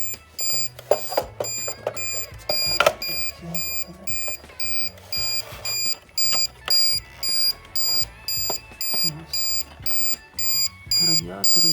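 A loud electronic warning beeper on a UPS running on AGM batteries, sounding in regular repeating pulses, with a person talking and handling clattering objects nearby.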